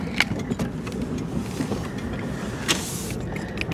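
Interior of a car being driven past a Dollar Tree store, with a steady low road rumble and engine drone throughout and a few faint clicks and rattles, no voices.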